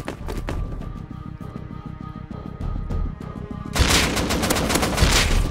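Rapid bursts of AK rifle fire in the survival video game Rust, a dense string of loud, close automatic shots followed by a heavier, more explosive stretch of gunfire.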